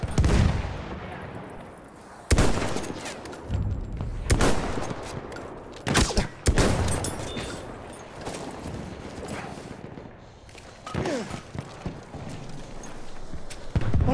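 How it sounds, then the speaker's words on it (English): Gunfire and explosions from a Battlefield 1 match, with repeated loud broadband bursts and sharp cracks over a dense, continuous background of battle noise. "Machine gun over there!"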